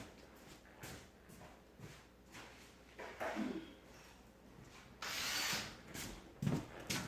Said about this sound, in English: I'll get my drill real fast so we can do that